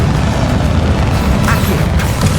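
A Bombarda spell blast in Hogwarts Legacy erupts as a loud, dense booming rumble with a sharper burst midway, sustained and close throughout.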